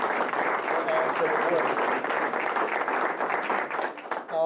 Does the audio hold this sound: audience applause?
yes